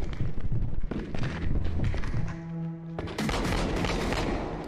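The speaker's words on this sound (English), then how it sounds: "Shots fired!" Gunfire from the Unrecord video game trailer, a dense burst of loud shots and booms, with a brief lull carrying a droning tone before another heavy volley, all close and continuous.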